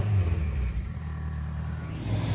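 An 800+ hp Honda Integra engine on a dyno at a performance shop gives a steady, muffled low rumble that holds at an even level with no voices.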